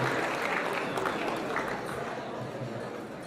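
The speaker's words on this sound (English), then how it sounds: "Can we give her a big round of applause?" A crowd applauds, a dense wash of clapping at moderate distance, with faint voices mixed in.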